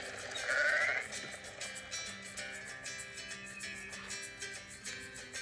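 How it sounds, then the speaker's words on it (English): A sheep bleat sounds once near the start, brief and moderately loud, followed by quiet background sound. "Sheep said baa."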